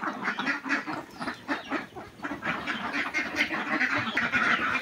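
Ducks raised on a small home farm quack over and over in busy, overlapping bursts, close by and fairly loud, with a few honking calls mixed in.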